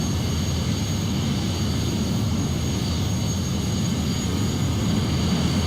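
An airplane engine in the Flight Simulator video game builds thrust, a constant dense jet roar that holds level and unbroken for several seconds.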